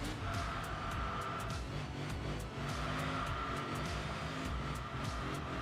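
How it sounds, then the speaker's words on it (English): Subaru GC8 Impreza with its boxer engine in the Enthusia Professional Racing video game, a sustained droning engine note that rises and falls steadily with faint tire noise, heard alone without talk. "you can already hear the Boxer engine on it"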